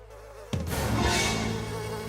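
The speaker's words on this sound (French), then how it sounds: "Ouh, peut-être que les abeilles sont de bonne humeur, elles." A cartoon sound effect of buzzing bees starts abruptly after a brief low tone, then sustains as a dense, fairly loud, wavering insect drone.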